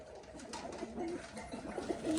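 Pigeons coo softly while being released from a loft, a low murmuring call repeated a few times at moderate distance over a faint background hum.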